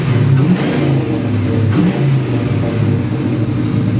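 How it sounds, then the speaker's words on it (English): Revving of a 2004 Jeep Grand Cherokee Overland engine fitted with an aftermarket racing exhaust, a loud, close, throaty drone that rises and swells in a couple of blips and holds a deep steady tone for about four seconds, with no talking. "So I'll rev it up here just so you can hear it."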